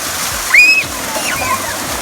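Water splashes as a child wades into a warm natural waterfall pool at Phu Sang, Phayao, with steady falling water under light splashes and faint voices nearby.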